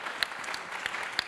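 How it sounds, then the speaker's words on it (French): A conference audience at a business event on inequality claps briefly, a thin, moderate patter of scattered hands with a few distinct louder claps standing out. "Je pense que ça s'applaudit."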